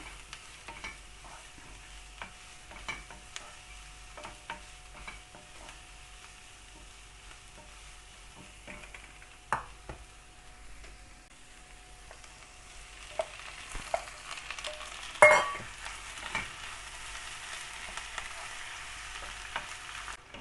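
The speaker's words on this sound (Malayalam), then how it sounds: "ഒരു മീഡിയം ഫ്ലെയിമിൽ കുറച്ച് സമയം വഴറ്റിയതിന് ശേഷം നമ്മൾക്ക് ഇനി ചെമ്മീൻ ചേർത്ത് കൊടുക്കാം." Prawns sautéing in a pan over a medium flame, a steady low sizzle with scattered spatula scrapes and stirring knocks, one sharper clatter near the end, no voices.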